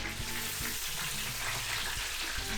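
Food sizzling and frying in a busy restaurant kitchen, a steady dense crackle running the whole time with low clanks and knocks of cookware underneath, fairly close and without talk.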